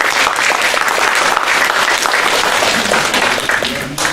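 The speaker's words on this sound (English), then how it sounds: "So let's have a round of applause for that." Audience applause at a school parent-teacher conference meeting, a dense steady burst of many hands clapping for about four seconds, loud and close, tapering off at the end.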